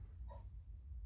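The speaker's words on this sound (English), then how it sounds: "Sorry for my dog in the background." A dog gives a single short, faint whimper in the background of a quiet room.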